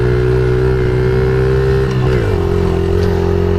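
Suzuki DRZ 70 dirt bike engine pulls steadily uphill in third gear, a close, loud, buzzing drone that dips briefly and then settles back into the climb.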